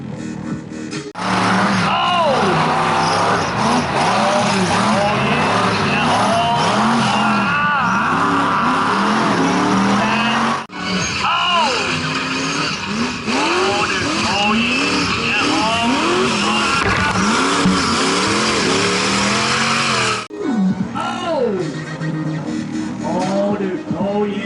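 Mega trucks freestyle at a motorsport event with loud, continuous engine roar that rises and falls in repeated revving sweeps, close and dominant for the whole stretch, with crowd and voices mixed underneath.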